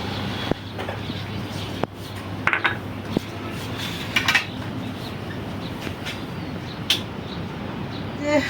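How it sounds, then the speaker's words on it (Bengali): A wok is set down on a home stove while cooking duck meat with coconut, and pots and pans clatter in a few sharp, scattered metallic clinks over a steady low kitchen hum. "কড়াইটা বসাই দিছি কিন্তু চুলার জালটা একটু নিভাই রাখলাম"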